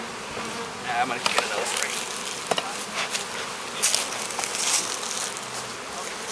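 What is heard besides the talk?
honey bees buzzing around hive frames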